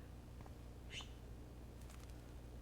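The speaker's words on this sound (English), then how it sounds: "That poor little bird has been trapped in here." A blue jay trapped indoors in Life is Strange Remastered lets out a faint, brief chirp over a steady low room hum, followed by a few softer high twitters.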